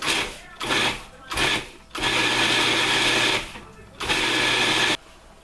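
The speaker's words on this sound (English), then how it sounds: "And then I'm going to blend it up." A blender grinds crickets with baking soda, whirring loudly in bursts: three short pulses, then a long sustained run and one more burst before cutting off.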